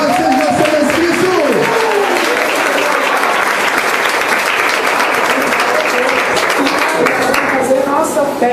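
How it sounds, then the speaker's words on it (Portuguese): A church congregation at a praise novena bursts into loud, sustained applause, dense and even throughout, with voices calling out and singing beneath the clapping. "Uma salva de palmas a Jesus"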